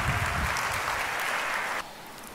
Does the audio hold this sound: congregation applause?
yes